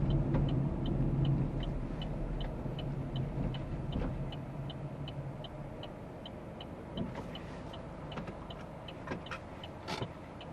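A car passes on a road near a learner driver waiting to move off, a steady rumbling engine and tyre noise holding for several seconds amid traffic ambience, with a faint regular ticking like an indicator.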